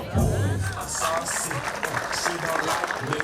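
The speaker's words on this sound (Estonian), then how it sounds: "Ma arvan, et see väärib aplausi." A crowd at the opening of an Estonian basketball arena breaks into applause right after a speaker on stage, the clapping broad and sustained across the hall with talk mixed into it.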